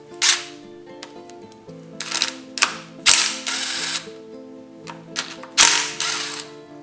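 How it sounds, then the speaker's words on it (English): Ratchet with a 6mm Allen bit removing the brake caliper on a Kawasaki KLR250 during fork seal work, giving several sharp, close clicking bursts separated by short pauses. "6mm Allen to take the brake caliper off."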